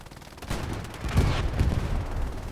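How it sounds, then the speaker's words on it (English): Explosions and gunfire ring out on Utah Beach in a World War II video game, with rumbling blasts and sharp cracks that build after a quiet start and then keep up a dense barrage. "Explosions going off. His teammates get rocketed behind him now as well."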